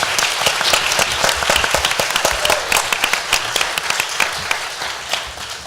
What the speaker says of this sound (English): So can we please give them a round of applause for being here?